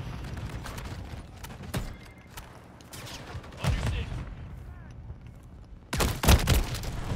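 Shotgun blasts in a first-person shooter video game, several sharp reports spaced a few seconds apart, the heaviest pair near the end, over a busy background of game noise.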